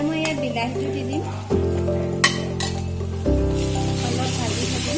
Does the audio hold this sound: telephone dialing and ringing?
no